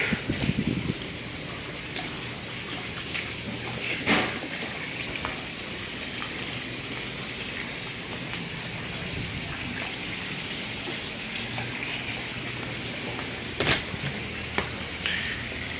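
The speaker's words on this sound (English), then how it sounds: "There's water all over. We're washing it," A steady hiss of water spraying and splattering across a plastic surface, with a few sharper splashes, continuous and fairly close.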